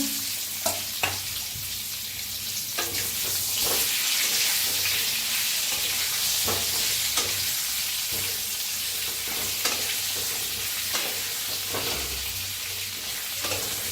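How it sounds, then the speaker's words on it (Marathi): Brinjals fry in hot oil with a spice tempering of hing and turmeric, a steady close sizzle with scattered pops and occasional stirring clicks, no voices over it. "वांगी म्हणजे तेलात छान असं भाजून घ्यायचं थोडस"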